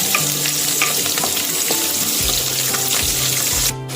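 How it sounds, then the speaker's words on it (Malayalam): Garlic fries loudly in hot oil in a pan for a Kerala river fish curry, a steady close sizzle broken by a few stirring scrapes and clatters near the end. "ഇനി വെളുത്തുള്ളി ഇട്ട് നന്നായിട്ട് ഇളക്കി കൊടുക്കാം"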